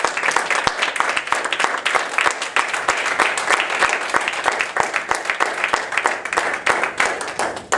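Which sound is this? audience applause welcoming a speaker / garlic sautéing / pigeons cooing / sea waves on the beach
audience applause welcoming a speaker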